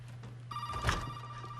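A telephone rings in the survival horror game Resident Evil 7, a steady electronic ring with a sustained buzzing tone, heard alone and moderately loud over a low background drone.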